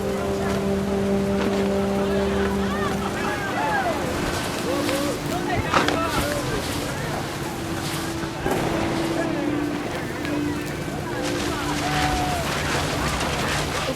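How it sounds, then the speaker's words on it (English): Heavy rain pours steadily in What Remains of Edith Finch, a dense continuous hiss with a low rumble beneath, accompanied by sustained musical tones throughout. "The rain came down in buckets then"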